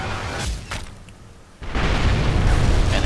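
An explosive charge blows up in Sniper Elite V2, a sudden heavy boom that swells into a loud, rumbling roar after a short quieter stretch.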